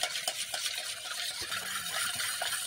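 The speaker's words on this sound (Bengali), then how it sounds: "ভালো করে এরপর মিশিয়ে নিচ্ছি মিশ্রিটা দুধটা একসঙ্গে" A spoon stirs rock sugar into milk for a homemade milk cake, giving steady scraping and clinking against the pot in an irregular rhythm, close and moderately loud.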